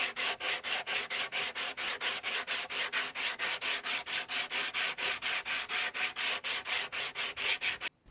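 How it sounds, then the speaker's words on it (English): Wooden coffee table legs being sanded by hand in fast, regular back-and-forth strokes, a steady rasping rhythm of about four strokes per second, close and alone, stopping abruptly at the end. "now it's time to remove them and give them all a good sanding."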